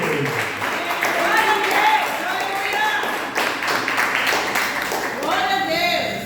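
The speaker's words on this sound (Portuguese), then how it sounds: "Aplauda ao Senhor Jesus." A church congregation claps during a worship service, steady loud applause mixed with voices shouting and singing, the crowd noise continuous and close.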